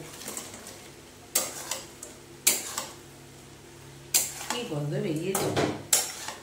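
Pakoras being stirred into Schezwan chicken sauce in a pan, with a spoon clanking and scraping in several sharp bursts over a low sizzle, close by.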